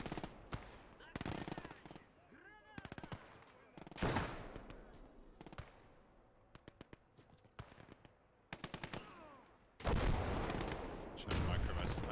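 Artillery and gunfire in the World War II strategy game Gates of Hell: sharp rifle and machine-gun bursts crackle at varied distances, punctuated by heavier booming artillery impacts, in a fairly faint, continuous battle mix.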